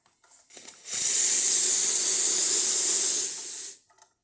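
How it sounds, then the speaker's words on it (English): A Zacconi espresso machine's steam wand releases a strong, loud, steady hiss for about three seconds, then cuts off sharply, with faint clicks before and after. "So as you can see, it gets nice strong steam."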